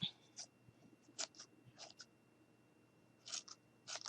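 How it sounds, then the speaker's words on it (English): Scissors snip faux fur trimmed on a handmade boot ornament, a handful of short, crisp, quiet cuts coming in uneven pairs and clusters, close up with no talking. "now we're going to take our scissors and we're just going to trim it up a little bit"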